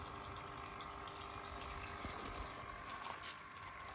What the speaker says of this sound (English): That's tab 1 draining down.